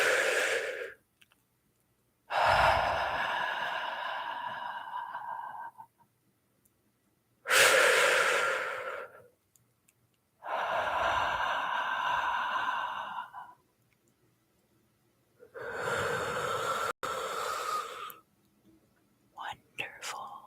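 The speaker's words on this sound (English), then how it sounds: "So just take a few deep breaths." Slow, deep breaths during a guided relaxation session, several long airy inhales and exhales separated by pauses, close and soft.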